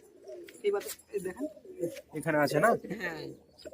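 Giribaz pigeons cooing in soft rolling bursts nearby in a loft while a person speaks over them.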